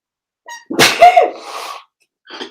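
A single loud, close sneeze with a quick intake of breath before it, followed by a short exhale and a faint breath at the end.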